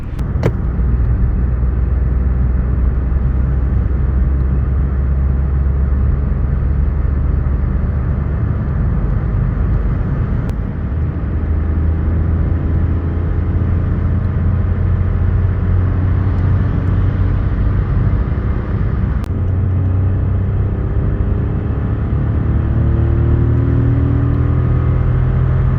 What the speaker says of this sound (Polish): Ja bardzo lubię charakterystykę wolnocących silników, zwłaszcza tych 3-cylindrowych, bo mają taki miły dla ucha warkot.